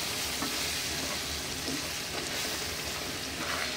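Hot milk being stirred little by little into semolina cooking in ghee for a temple prasad shira, a dense continuous bubbling sizzle with soft stirring, close and steady, with no voices.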